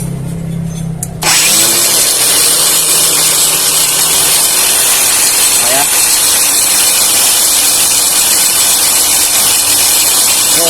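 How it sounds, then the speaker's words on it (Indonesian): A JLD brushless angle grinder on its stock battery switches on after about a second of quiet hum, then runs at its highest speed with a loud, steady, piercing whine until the end. "Kita gunakan RPM yang tertinggi dengan baterai bawaan Gerinda JLD"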